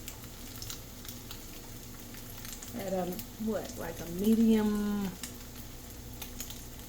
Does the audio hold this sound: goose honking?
no